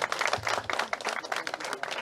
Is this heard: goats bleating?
no